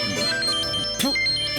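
A mobile phone ringtone plays a bright, melodic electronic tune, loud and close, with a brief break near the middle and no one talking.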